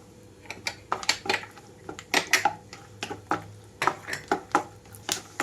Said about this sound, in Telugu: ఇక్కడ సగం వరకు కలర్ మారేటప్పుడే ఇందులోకి కిస్మిస్ కూడా వేస్తున్నానండి